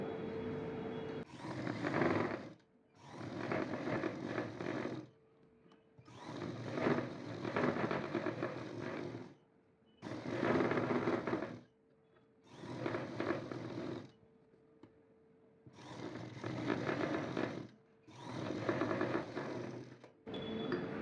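Bursts of a sewing machine stitching a blouse side seam, several runs of a few seconds each separated by short pauses, close and steady with a motor hum.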